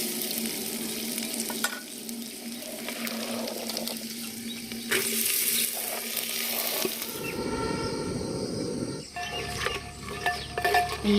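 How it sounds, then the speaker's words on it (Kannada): Soaked grains fry in oil on a village wood-fired stove, a steady crackling sizzle with stirring scrapes and clatter, shifting in texture partway through. "ಈ ಕಾಳನ್ನು ಒಂದೆರಡು ನಿಮಿಷ ಫ್ರೈ ಮಾಡ್ಕೋಬೇಕು ಎಣ್ಣೆಲಿ"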